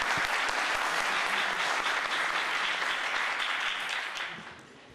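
Sustained crowd applause for the mayor at the opening ceremony of a sports event stage in Kaynaşlı, dense and steady before tapering off in the final second.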